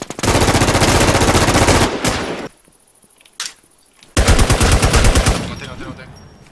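Automatic gunfire in the DeadZ video game: two loud, sustained bursts of rapid machine-gun fire separated by a quiet gap with one brief shot in between.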